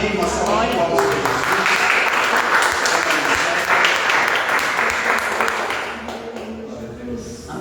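A church congregation claps for God, a loud, sustained round of applause with voices mixed in, tapering slightly toward the end.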